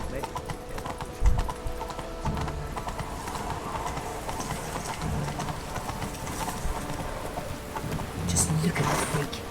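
The horse Roach gallops in The Witcher 3 video game, with rhythmic clip-clop hoofbeats running throughout under game ambience, while characters talk over it.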